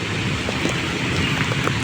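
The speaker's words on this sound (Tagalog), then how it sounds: "Napakalakas ang hangin at ulan dito" Steady, heavy rain roars with gusting wind, a dense constant wash of noise with no break, on a street corner at Lawton Avenue and Kalayaan Avenue, Taguig City.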